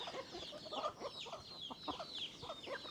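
Silver Laced Wyandotte chickens cluck softly in a barnyard, a faint, busy stream of overlapping short clucks and squawks from several birds, no voices.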